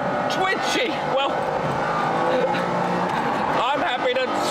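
A McLaren F1 supercar engine revs hard with rising and falling pitch sweeps through gear changes. It is loud and continuous, with someone talking over it throughout.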